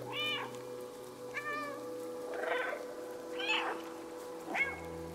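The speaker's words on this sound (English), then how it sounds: "Left alt to meow." A cat in the video game Stray meows several times, separate clear calls spaced a second or so apart over quiet ambient game sound, with soft rain-like texture in the background.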